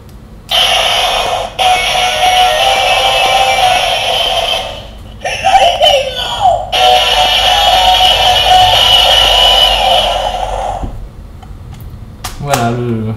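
Electronic sound effects from a DX Pteraidenoh Kyoryuger transforming toy robot, with bursts of bright buzzing, chattering tones that stop and restart, loud and close, ending in a short burst of voice-like sound.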